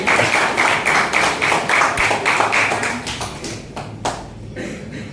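A classroom group claps together in quick, fairly even bursts, the rhythm loosening and thinning toward the end, with a few scattered claps and light taps trailing off.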